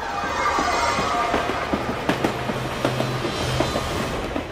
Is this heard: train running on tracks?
yes